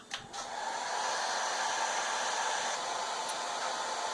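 Hair dryer heating gun parts: a brief clatter as it switches on, then a steady, broadband blowing whoosh that holds constant and close, with no one talking.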